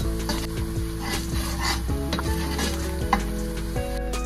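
Whole spices sizzle with browning onions in a pan for chicken biriyani, a steady close frying hiss under repeated scraping stirs, with no talk.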